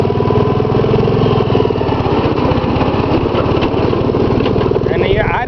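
A Gravely 810 tractor with a Kohler cast iron engine runs close by in high gear, a loud rapid chugging engine drone that holds steady throughout.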